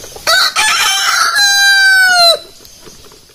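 Rhode Island Red rooster crowing close by in a breeding area, one loud full cock-a-doodle-doo with a long drawn-out final note, then quiet farm background.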